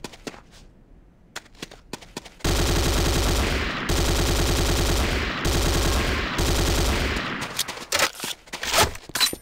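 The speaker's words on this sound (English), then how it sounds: "The next weapon is the Corbretti AR-70 Raptor Automatic Rifle." Corbretti AR-70 Raptor automatic rifle fired in the tutorial of the Command & Conquer Renegade video game, loud sustained bursts of automatic fire with brief pauses between them, following a few scattered clicks.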